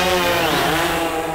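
A small multirotor drone fitted with big rotors gives off a loud, harsh, chainsaw-like buzz. The pitch warbles and sweeps as the motors change speed, and the sound is close and unbroken, with no voices.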